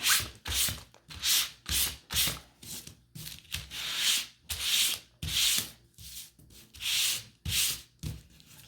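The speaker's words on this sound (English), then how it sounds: "All right, so we're gonna sand this one" A painted wooden wreath is sanded by hand in a steady rhythm of close, rasping back-and-forth strokes, about two each second, with no voices.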